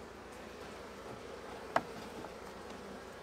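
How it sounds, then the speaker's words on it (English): Bees hum steadily on a beehive frame as they build out wax, a soft continuous buzz with one brief close tap. "look at all those bees. They are busy right now building out wax."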